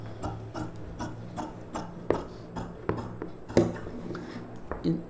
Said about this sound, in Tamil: இந்த ஷேப்புக்கு அப்படியே கட் பண்ணிக்கலாம்.